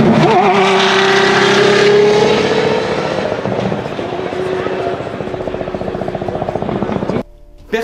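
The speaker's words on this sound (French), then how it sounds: "un V8 de 5 litres développant 700 chevaux" A De Tomaso P72's powerful 5-litre, 700-horsepower V8 engine revs loudly, its pitch climbing then settling into a rough, throbbing burble before cutting off abruptly near the end.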